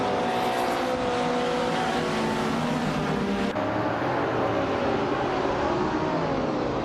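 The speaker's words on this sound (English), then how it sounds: "the race just kicked off at Fuji Speedway Retro" Vintage race cars at Fuji Speedway in a racing video game, a dense roar of engines at the start of a race, a pack of revving motors blending into one loud sustained drone with shifting pitch.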